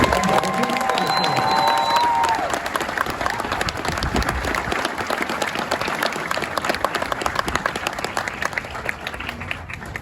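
A crowd applauds and cheers at a Marine Corps Recruit Depot San Diego graduation, loud dense clapping with whistles and shouts from many people that carries on steadily through the whole stretch.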